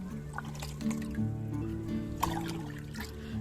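Liquid fertilizer poured by the mugful into a container of about ten to fifteen litres of water, a close gurgling splash and trickle with a few drips, no speech.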